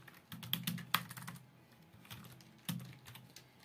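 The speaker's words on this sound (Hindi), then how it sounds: "तो सबसे पहले हम एच दबाते हैं, फिर शिफ्ट के साथ थ्री दबाते हैं" Hindi text being typed on a computer keyboard using the Mangal InScript layout: a handful of distinct key clicks, with two sharper strikes near the start and another later, close and fairly quiet, no voices.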